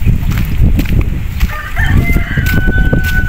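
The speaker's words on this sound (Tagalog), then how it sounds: "Kasi may manok." Chickens cluck and a rooster crows along a rural delivery route, the crow rising as a sustained call midway through over steady motorbike and roadside noise.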